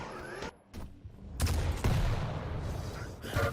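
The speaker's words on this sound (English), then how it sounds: "The shotgun." Shotgun blasts and other weapon fire in a Quake competitive match, a few sharp booming shots at irregular intervals over continuous game noise.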